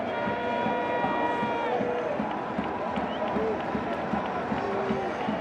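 A sunny Easter afternoon crowd at a Blue Jays vs White Sox baseball game roars and cheers steadily as the home side nears the final out, a dense, far-spread ovation under a play-by-play announcer's voice.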